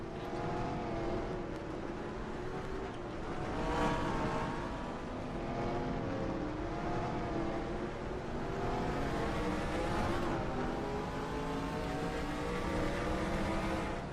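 A race car in the NASCAR Racing 2003 sim video game, engine note sliding and shifting as it brakes hard, a continuous loud mechanical drone with wavering harmonics throughout.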